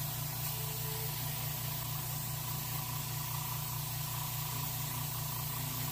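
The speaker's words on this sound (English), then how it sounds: "Seal the fish with a base coat sealer." A spray gun applies base coat sealer to three taxidermy rainbow trout at once, giving a steady, close, unbroken hiss that runs for the whole stretch with a low hum beneath it.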